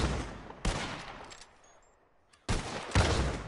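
Shotgun blasts in Red Dead Redemption: a loud boom with a decaying tail, a quieter stretch, then two more heavy close shots in quick succession.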